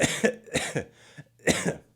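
Three harsh coughs burst out close up in quick succession, with short pauses between them.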